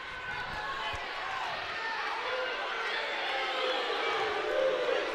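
Crowd noise swells steadily in an arena during a wrestling match, a broad roar of spectators building and urging on a wrestler late in the period, with a commentator's voice talking over it throughout.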